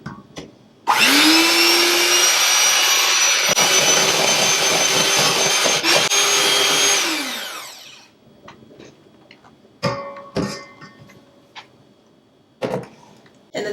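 An electric mixer runs loudly for about seven seconds, mixing cinnamon roll dough ingredients with vanilla extract, a steady high whirring drone that winds down, followed by scattered clinks and knocks.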